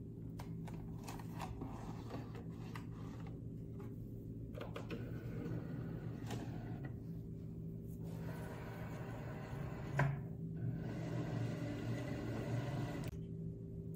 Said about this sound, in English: load your mat into your Cricut machine